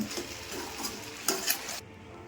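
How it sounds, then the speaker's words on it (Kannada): A spoon scrapes and stirs through vegetables sizzling in a spice tempering in a pan, a couple of sharper clinks, then the frying noise cuts off. "ತರಕಾರಿನ ಒಗ್ಗರಣೆಯಲ್ಲಿ ಮಿಕ್ಸ್ ಮಾಡ್ಕೊಂಬಿಡೋಣ."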